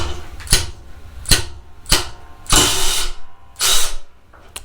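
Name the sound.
Milwaukee Fuel ratchet tightening at 35 foot-pounds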